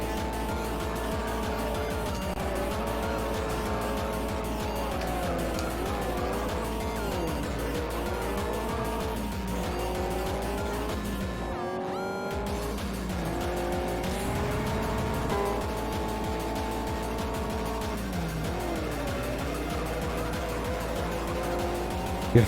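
Honda Civic racing laps in a video game: a steady, loud engine drone revs up and down through gear shifts, with tire squeal and skidding in the corners and a brief cut partway through.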